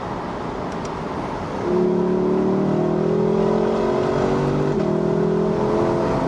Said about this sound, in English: And we can listen to this magnificent engine once again. And just listen to those downshifts.